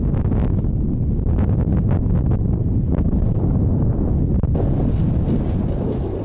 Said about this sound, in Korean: 사방이 뚫려 바람 한 점 피할 곳 없는 겨울바다